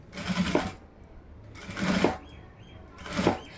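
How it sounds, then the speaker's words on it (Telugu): A sewing machine stitching a blouse, running in three short bursts of rapid whirring needle chatter separated by brief pauses, close and clear with no talk. "ఇట్లా కుట్టనే వేసుకుంటూ వస్తున్నాను"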